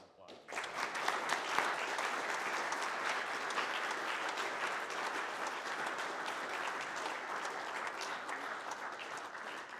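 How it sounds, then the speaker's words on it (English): Sustained applause from an audience at a Rotary Club Veterans Day recognition ceremony, a dense, steady wash of clapping that rises quickly and holds at an even level for the full stretch. "Let's give one more round of applause."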